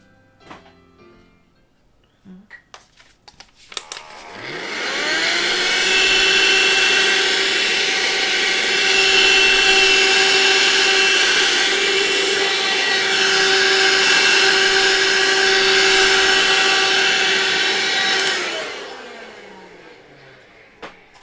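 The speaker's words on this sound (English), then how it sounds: "I just need to vacuum here." A vacuum cleaner whirs up to a loud, steady high-pitched drone, runs for over ten seconds, then winds down, with brief handling noises before it starts.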